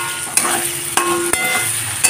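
Capsicum pieces frying in a pan over a high flame, a continuous close sizzle broken by several sharp scrapes and taps as they are stirred.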